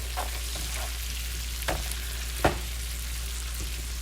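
Greek herb-coated lamb loin chops searing in an oil and butter mixture in a pan: a loud, continuous sizzle with a couple of brief clicks and pops, no talking.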